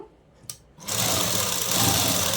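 A sewing machine stitching dress lining cloth starts after a brief clack and runs steadily, a close, continuous whirring hum with no talking.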